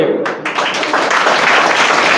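A brief burst of loud, close clapping from students and guests at an MGM Senior Secondary School ceremony honoring intermediate students, quickly swelling into a dense, even roar of applause.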